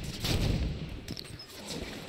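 Gunfire from the video game Halo 5: Guardians, a short burst of rapid shots that crackles loudly and then trails off into scattered pops, with no talk over it.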